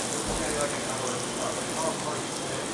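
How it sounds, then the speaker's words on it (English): Bluefin tuna cooking in a hot pan gives off a steady, dense crackle of sizzling pops that runs through the whole stretch, with scattered sharper snaps over a constant hiss. "I don't know if this stuff is hot enough, but it's definitely snap, crackling, and popping."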